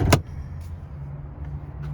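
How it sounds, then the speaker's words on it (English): The hood of a Jeep Grand Cherokee SRT-8 with a 6.4 Hemi pops open. A single sharp, close metallic clunk comes at the start, then a low steady rumble continues, with a couple of faint light knocks later. "we're gonna pop the hood for y'all."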